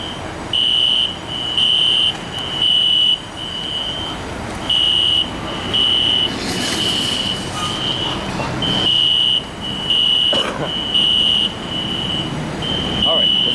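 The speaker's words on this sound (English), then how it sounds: "this is the first time I ever heard a fire alarm" A building fire alarm goes off in a steady pattern of loud, shrill beeps that repeat about once a second, with background rustle and a voice speaking now and then underneath.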